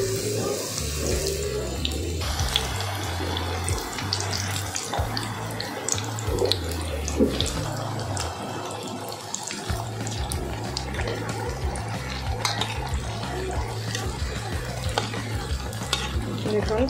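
Batter-dipped eggplant fritters deep fry in hot oil with a steady sizzle, joined by scattered clinks and stirring noises nearby, while a low hum runs underneath.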